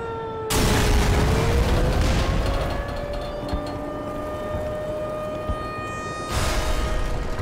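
Mortar shells land in Black Mesa with a loud, broadband boom that sets off a long rumbling tail over steady tonal game noise, and a second heavy impact bursts in near the end.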